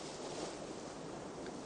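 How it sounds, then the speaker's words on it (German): Steady wind rushing over a sailboat at sea, about force 4 from the southeast, mixed with wave wash and surf against the hull, a dense continuous roar with no voices. "Endlich kommt Wind. 4 Beaufort aus Südosten."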